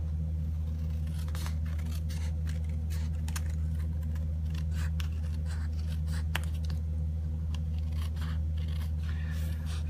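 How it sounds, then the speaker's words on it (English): Scissors snip along the edges of an embossed paper thank-you card, a run of short crisp cuts in a quick irregular rhythm, close and alone over a low steady hum. "Fussy cutting along the edges there"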